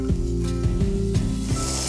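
Dry-aged ribeye steak searing on a barbecue grill, a loud, constant close sizzle with brief pops and crackles and a low steady hum beneath, no voices.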